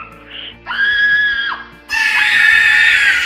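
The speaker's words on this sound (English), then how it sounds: "she heard the sound of her mother's shrill, tortured screams from down the hallway" A woman's shrill, tortured screams used as a horror sound effect: two long, piercing wails separated by a short pause, loud and close, the second harsher and sustained.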